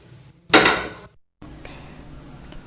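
A pressure cooker holding reheated parotta being opened: a sharp metallic clank and scrape of the lid, then a pause and faint handling noise, close by.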